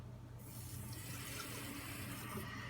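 Two cups of water pour for cleaning a microwave, a steady close splashing stream that runs the whole time, heard alone without talk.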